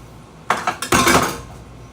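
Dishes, pots and pans clatter in a home kitchen while Chinese golden fingers with sweet and sour sauce are prepared, a close burst of several sharp clinks and knocks followed by a denser rattling jumble that fades out.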